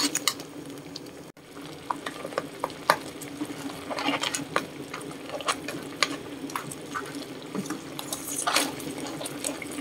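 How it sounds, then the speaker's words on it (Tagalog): Sprite is poured into a pan of crab cooking with ginger, giving a steady liquid hiss and bubbling sizzle scattered with clinks of stirring, all fairly quiet and close. "lagyan natin itong Sprite"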